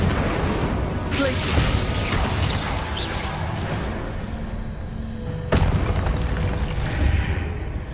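A booming Confringo spell explosion in Hogwarts Legacy rumbles under dense game noise, followed by a sharp burst partway through and continued clattering effects.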